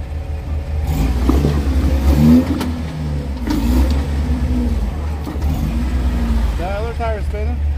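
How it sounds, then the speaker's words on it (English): Off-road vehicle engine revving hard at an off-road park, a loud sustained rumble with rising surges and a spinning tire, while people talk over it throughout. "That other tire is spinning."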